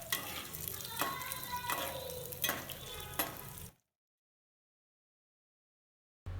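Halved cashews and broken dried red chillies frying in oil for pulihora, a close crackling sizzle with several clinking stirs, then sudden silence before a brief return at the end.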